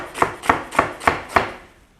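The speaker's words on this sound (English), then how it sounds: "Whenever you're chopping things like this, it's always a good one to keep the fingers sort of curled under" Vegetables are chopped with a knife on a board: five crisp, evenly spaced strokes in quick rhythm, close and clear, with no talking.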